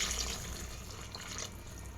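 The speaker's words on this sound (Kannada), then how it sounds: "ನಮಗೆ ಎಷ್ಟು ಬೇಕೋ ಅಷ್ಟು ನೀರು ಹಾಕ್ಕೋಬೋದು." Water poured into a cooking pot of spiced mutton kaima curry, a steady splashing gush that runs throughout, with no voices.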